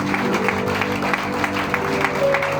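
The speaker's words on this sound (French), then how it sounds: "somebody clap for the Lord." A church congregation at a Sunday service claps together for the Lord in a brief burst of steady, dense applause, with a sustained hum or tone running underneath.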